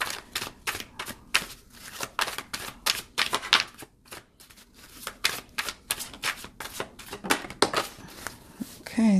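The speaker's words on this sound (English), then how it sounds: "I shuffled this deck good" A tarot card deck is shuffled vigorously in rapid, crisp riffling bursts, a rattling clatter of cards with brief pauses between rounds, close and distinct with no speech.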